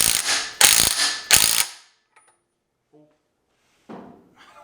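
A wrench tightens a Ford 8-inch mini spool with three loud, close ratcheting bursts in quick succession, followed by faint small clicks and a final softer ratchet sound.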